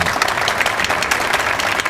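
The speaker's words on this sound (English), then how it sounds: "Applause. Everybody, you can clap along." A short burst of steady clapping from a group, dense and even for about two seconds with no voices over it.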